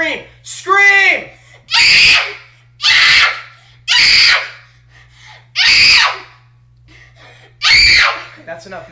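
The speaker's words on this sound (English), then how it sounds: "Scream!" A man screaming loudly in repeated bursts during a late-night livestream, about six long, full-throated screams separated by short pauses, with a brief high voice at the start and a low steady hum underneath.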